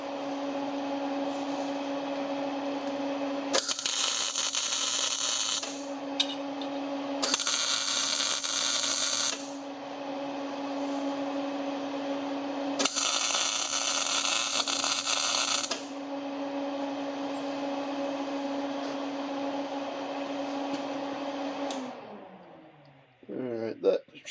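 A link bracket is tack welded onto a Land Cruiser during a rebuild, with three short, harsh crackling bursts over a constant electrical hum. The hum cuts out near the end.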